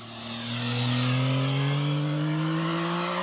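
A Yamaha XSR 900 GP's CP3 three-cylinder 119-horsepower engine revs up and holds a strong, rising tone, loud and close, with no talking.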